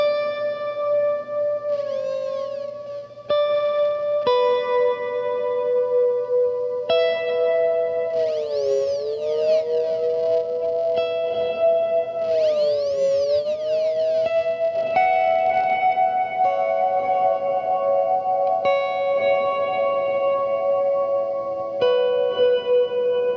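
Clean guitar notes and bends ring through a Death By Audio Rooms delay pedal with depth raised, repeats trailing behind each phrase with a slight warbling shimmer, played steadily without voices.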